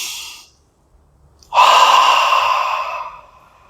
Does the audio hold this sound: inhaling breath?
yes